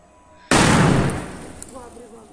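A firecracker explodes at a festival celebrating Shri Ram Lalla in Varanasi. It goes off in one loud, close blast that cuts in suddenly, then rumbles and fades over about a second.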